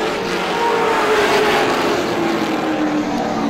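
Race cars roar around the Star Speedway oval during a heat race, a loud, steady blend of several engines running close together without a break.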